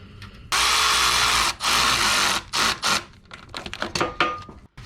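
A power tool drives a bolt into the clutch housing of a 2007–2013 MINI Cooper S R56, giving two long loud whirring bursts and then shorter stuttering spurts with clicks, close up.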